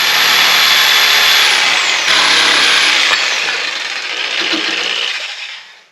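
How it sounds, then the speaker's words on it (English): A jigsaw cuts through black walnut in a loud, dense buzzing rasp that runs continuously, shifts in pitch partway through, then winds down and fades at the end, close with no talk. "So we'll use the jigsaw to finish up this cut."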